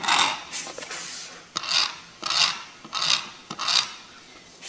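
A pen draws an X mark on a board while laying out a 30-degree angle with trammel points, heard as several distinct rasping scratch strokes in an uneven rhythm, close and fairly loud with short pauses between.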